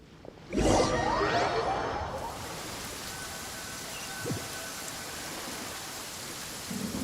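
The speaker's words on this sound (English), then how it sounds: "It's raining" Rain in the video game Genshin Impact begins with a sharp whooshing burst, then settles into a soft, steady patter under faint ambient tones.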